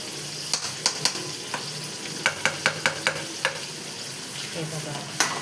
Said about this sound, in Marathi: हे बघा असं फ्राय करायचं.